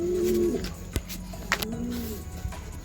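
Pigeons kept for training and racing cooing up close in a loft: soft, low rolling coos, a few sharp clicks and knocks between the calls, and faint background sounds.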